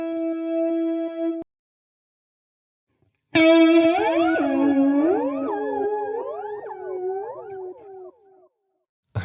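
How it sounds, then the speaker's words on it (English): Electric guitar notes edited in Logic Pro X Flex Pitch with exaggerated pitch drift, a sustained tone, a pause, then a loud phrase of notes that bend and wobble up and down in pitch, distorted and effect-heavy, with no talking. "let's move up to the pitch drift and really accentuate that."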